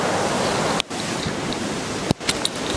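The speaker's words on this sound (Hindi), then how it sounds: "कैमरामैन दिखाएंगे हमारे सामने कितना ब्यूटीफुल झरना आपको यहाँ पर दिखेगा।" A waterfall at Lansdowne in monsoon season roars with loud, dense, continuous rushing water close by, broken by two brief dropouts and a few light knocks.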